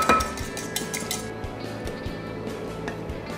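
A pan of boiling agnolotti pasta is moved off the stove, with a few metallic clinks and a scrape of pot against the hob, fairly quiet against a steady bubbling and kitchen background.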